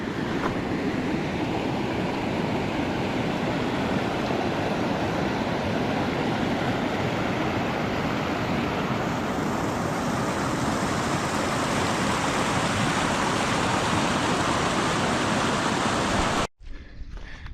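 A mountain stream near a hiking trail on Malans Peak rushes with a loud, continuous broadband wash of running water, close and steady throughout before cutting off abruptly at the end.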